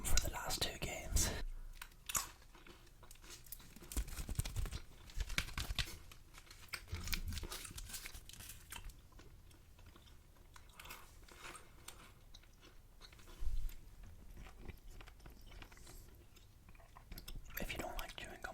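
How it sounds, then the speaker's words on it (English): Chewing gum ASMR: close, soft wet chewing and smacking sounds, quiet and intimate, with whispered talk over much of it. "So now we are going to switch to the chewing gum for the last two games."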